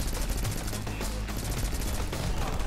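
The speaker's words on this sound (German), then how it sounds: "Schrotflinte knallt schon, aber leider hat die nicht so die Reichweite." Rapid, dense gunfire from the shotgun in the video game Rocketbirds: Hardboiled Chicken cracks out in a loud, continuous burst with repeated sharp reports throughout.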